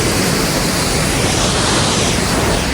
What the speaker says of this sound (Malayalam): നല്ല വെള്ളച്ചാട്ടത്തിന്റെ സൗണ്ട് ഇങ്ങനെ കേൾക്കാം